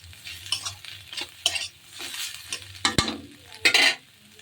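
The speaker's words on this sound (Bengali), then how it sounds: "ভাতটা একটু ভেজে নিলাম" Cold leftover rice frying with biryani spice in a pan, stirred with a utensil: bursts of scraping and sizzling, a sharp metallic clink near the end, all close and uneven in rhythm.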